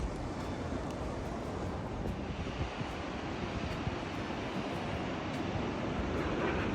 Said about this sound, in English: Here you can see up close the water flow in that direction